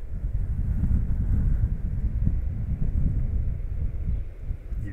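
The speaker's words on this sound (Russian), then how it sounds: "И ветер сегодня такой сильный." Strong wind by the ocean buffets the microphone in a steady, loud low roar lasting throughout, with no voices.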